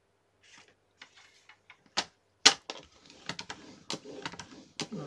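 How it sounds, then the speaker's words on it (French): A fold line being scored into cardstock for a Christmas gift pop-up card, heard as scattered sharp taps and scraping strokes of a scoring tool, fairly close and moderately loud, with no talking. "Donc, sur le bord long ici, je viens faire un premier pli à"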